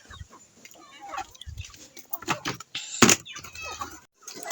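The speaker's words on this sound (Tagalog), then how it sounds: "Ano po yung mga alaga kong manok." Pet backyard chickens clucking in short, uneven bursts, with scattered scratching and rustling noises in between and one sharp louder clatter near the middle, fairly close by.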